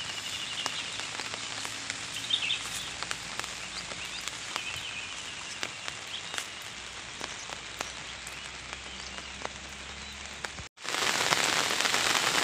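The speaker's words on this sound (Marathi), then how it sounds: "पुन्हा एकदा पावसाला जोरदार सुरुवात झाली बघा. समोर पाऊस बघा किती आहे तो." Heavy unseasonal May rain falls in the Konkan region as a steady, dense patter and hiss on nearby surfaces, loud and continuous with no talking.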